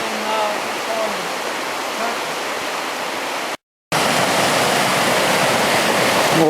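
The Casaga River flows with a steady, broad rushing wash of water, close and fairly loud, broken by a brief silent gap partway through.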